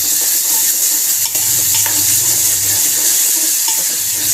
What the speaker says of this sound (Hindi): अब इसमें हम डालेंगे जो लाल मिर्ची है वो, और ये जो ज़ीरा हमने लिया था उसे डाल देंगे।